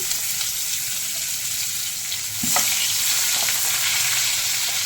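Chopped onions hit hot oil already seasoned with whole garam masala, a steady close sizzle that swells louder about halfway through, with scattered crackles and light stirring.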